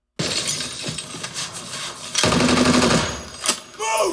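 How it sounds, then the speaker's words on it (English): Loud bursts of rapid gunfire from the film Warfare with heavy low-end impact, interrupted by short pauses and a sharp crack, dense and close. "This is probably the most intense bass we see paired with gunfire in the film."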